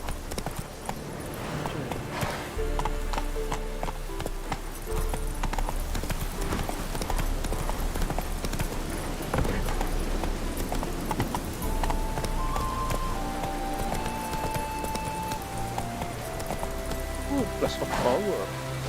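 Hooves of Roach, the horse in The Witcher 3, clip-clop at a steady gallop through the whole stretch, loud and close over game music and ambience, with someone talking over it.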